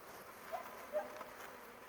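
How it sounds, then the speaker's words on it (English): Angry guard honeybees buzz at the entrance of a hive full of burr comb, a faint, steady insect drone with a few brief louder swells close to the microphone. "you little angry guard bees at the front door"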